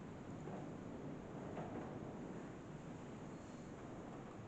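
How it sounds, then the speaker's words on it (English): Steady, broadband wind roar blowing continuously at a constant level, with a faint airy hiss on top and no voices. "It's really windy."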